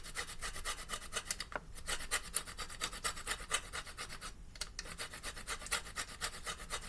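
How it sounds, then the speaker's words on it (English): A grater shaving zest off a lemon for cake batter, rapid rhythmic rasping strokes, close and fairly quiet, with brief pauses between runs. "you just take your lemon and you use your grater and you shave that lemon zest into"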